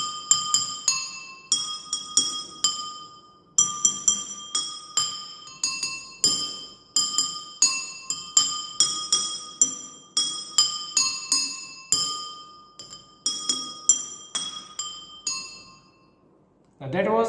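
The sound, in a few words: water xylophone, glasses of water struck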